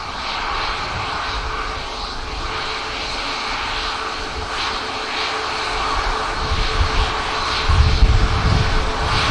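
An airliner departing Manchester Airport for Atlanta, Georgia, roars steadily with a broad, loud engine noise that deepens and grows heavier toward the end, heard alone without speech.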